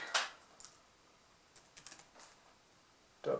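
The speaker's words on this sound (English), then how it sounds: "I have some issues typing on the keyboard from this angle" Light, sparse taps on a Windows 8.1 tablet's keyboard, a few isolated keystrokes scattered with pauses between them, close but fairly quiet, with no talking.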